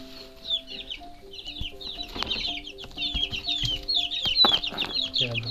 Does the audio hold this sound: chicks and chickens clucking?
yes